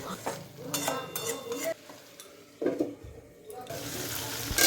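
Water poured into a pan of frying potatoes and spices for a Bengali fish curry, sizzling and splashing with clinks of a spoon against the pan, intermittent and close, with a voice talking faintly.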